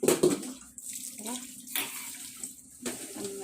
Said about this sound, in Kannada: ಸೊಪ್ಪು ನೀರು ಹಾಕಿ ಚೆನ್ನಾಗಿ